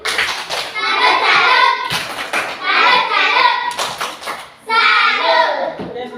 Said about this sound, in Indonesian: aplaus kepada teman-teman kelompok 3